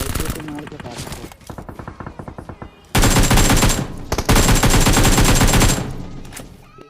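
Rapid bursts of automatic gunfire crackle in a military base battle-royale shooter game, with sparse volleys at first and then a loud, sustained stretch of dense firing that fades toward the end.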